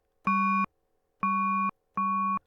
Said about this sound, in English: you could get a harsh on and off sound like this.